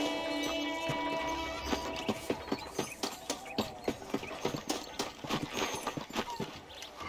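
Horse hooves clip-clop at a steady walking pace in the Red Dead Redemption video game, a regular run of close, distinct hoofbeats over soft ambient game sound, with no voices.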